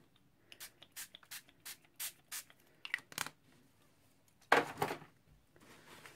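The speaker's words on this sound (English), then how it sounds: "This time I'm going to just use a spray" An ink spray bottle hisses in a quick series of short, evenly spaced pumps, followed by a louder, longer burst and some scratchy handling.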